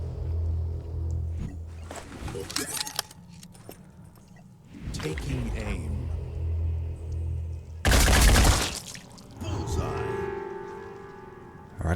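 Gunfire in the Phoenix Point tactical game, with a burst of loud shots mixed with booming impacts and heavy mechanical game sounds. A voice talks over part of it.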